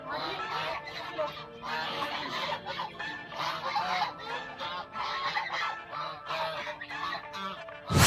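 Ducks in a park at a Sai Baba temple in Saharanpur honk and quack in a dense, continuous flock chatter, moderately near, with no talking.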